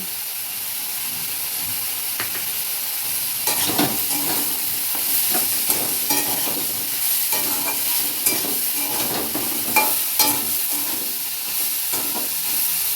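Soybeans fry in spiced masala in a pan, giving a steady close sizzle and hiss with repeated scraping stirs and occasional louder spatters, no voices.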